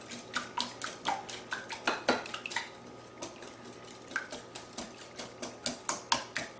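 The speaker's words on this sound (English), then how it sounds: "you're going to take your wire whisk and you're going to whisk all this together good" Wire whisk beating eggs in a mixing bowl for a German chocolate cake batter: a steady run of quick, close metallic clicks and taps against the bowl, regular and fairly light, with no voices.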